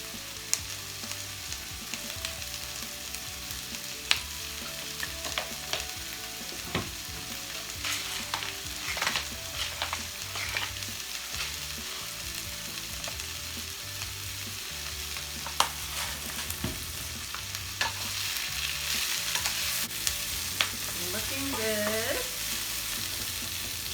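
Onions and vegetables for japchae sauté in a hot pan, a continuous close sizzle broken by frequent scraping and clacking of a spatula as they are stirred, with no talking.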